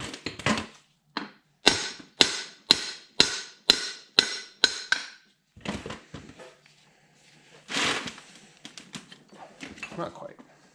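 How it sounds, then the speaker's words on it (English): A hammer taps on the end of a John Deere 318 Onan B43G engine to drive off a plate, roughly ten sharp metallic strikes in a quick even rhythm, then scattered knocks and clatter as someone talks. "I'm just basically tapping on the end. I'm going to drive this plate off."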